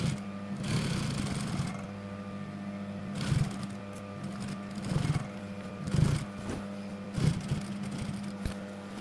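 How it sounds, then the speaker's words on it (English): A sewing machine stitches elastic onto a pair of jeans, running in steady bursts with brief pauses between, a close mechanical whir with rhythmic thumping. "Sew the elastic in place."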